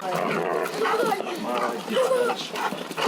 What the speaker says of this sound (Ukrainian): контактує з кінологами і службовим собакою Джеком.